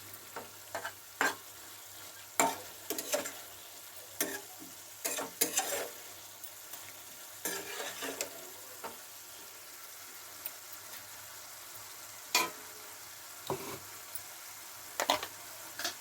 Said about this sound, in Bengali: মশলার সঙ্গে আমি কিমাটা নেড়ে চেড়ে নিলাম এবার